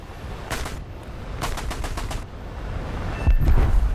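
In the War Thunder flight game, the Ho-229 V3 jet's cannons fire in three short bursts of rapid rounds separated by pauses, followed by a louder thump near the end against a steady airframe rumble.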